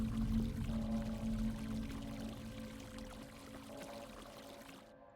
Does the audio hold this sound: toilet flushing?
yes